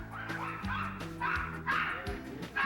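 Chihuahuas at a mass rescue evacuation yip and bark repeatedly, with whimpers among them, in a busy, steady run of overlapping small-dog calls.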